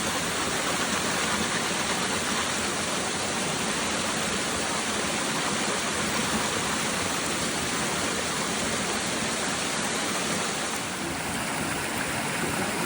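Creek water flowing at a gold-mining claim, a steady, dense broadband rush with no pauses, close and constant throughout, with no voices.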